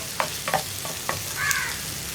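Spoon stirs potato masala in a pan over a low flame, giving a few separate scraping strokes against a soft background sizzle.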